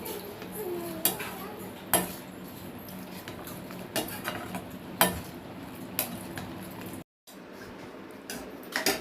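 A spoon stirring chana masala gravy in a metal pan: close scraping with sharp clinks against the pan's side, landing about once a second in a steady rhythm.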